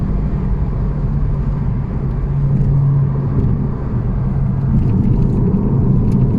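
A 1992 Audi Coupé Quattro V6 driving at an easy pace, with a loud, steady low engine and road rumble heard from inside the cabin.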